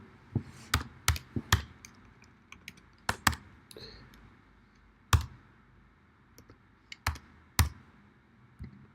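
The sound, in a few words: typing login credentials on computer keyboard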